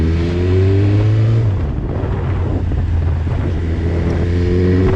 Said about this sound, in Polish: Jesteśmy na piątce, redukujemy sobie do dwójeczki.